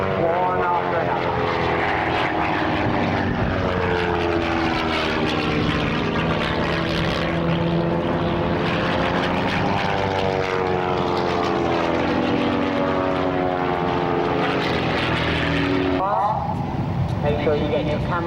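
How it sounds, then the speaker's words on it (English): Three propeller aircraft fly the Caterpillar loop at the RAF Marham airshow, their engines droning loudly with rising and falling pitch as they pass one after another, a commentator talking over them. "This is where all three aircraft form a loop."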